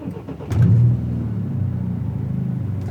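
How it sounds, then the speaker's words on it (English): BMW F30 328i engine starting from inside the cabin, a brief cranking burst that swells into a loud rev flare around half a second, then settles to a steady, close idle rumble with no talking. "So I'm gonna start it so you guys can get an interior sound."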